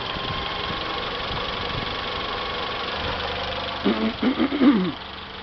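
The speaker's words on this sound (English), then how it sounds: "I can hear my engine change" A car engine with a failing alternator idles steadily with a low hum, then a few uneven knocks and revving pulses briefly rise near the end.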